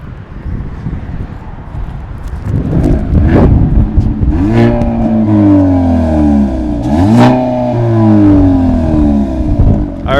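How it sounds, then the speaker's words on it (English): A 2022 Hyundai Elantra N engine idles in Eco mode with a deep exhaust rumble, then revs up and down a few times, loud and close, heard from behind the car. "we're going to give you the different sounds of what the exhaust sounds like"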